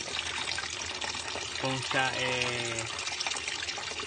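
Water runs steadily into a repaired plastic jug during a leak test, a continuous close trickle and splash with someone speaking briefly over it.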